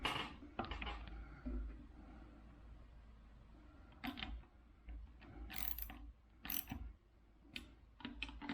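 A ratchet gently tightens the nuts on the accelerator pedal sensor of a 2004 Toyota Camry, making close, quiet bursts of clicking pawl ratcheting with short pauses between strokes.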